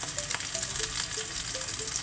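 Capsicum hits a pan of onions frying until translucent, giving a steady close sizzle with crackling and light stirring throughout, no voices.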